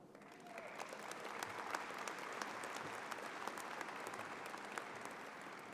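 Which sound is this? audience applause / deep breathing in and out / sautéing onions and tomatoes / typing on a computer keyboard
audience applause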